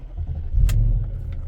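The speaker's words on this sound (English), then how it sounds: "After the coding part was done, unplug everything, start the car." A BMW (E39, E46 or E53) is started after ABS module coding, giving a steady low engine rumble with a brief clack as it catches, close by in a garage.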